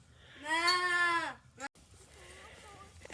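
A goat lets out one long, loud, wavering bleat up close, followed by a quieter stretch of low background sound.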